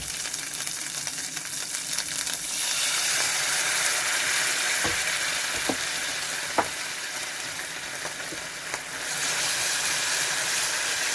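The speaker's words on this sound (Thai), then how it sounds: "เดี๋ยวยายจะคั่วพริกแกงให้หอมก่อนนะคะ" Thai curry paste dry-roasting in a pan for spicy stir-fried catfish: a steady, loud sizzle and hiss with a few sharp spatula scrapes and clicks against the pan, easing slightly near the end.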